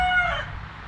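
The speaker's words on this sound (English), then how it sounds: "you can hear my little rooster crow and see what happens when he crows" A small rooster crows once from nearby, a loud strained call in the first half second that trails off into barnyard background.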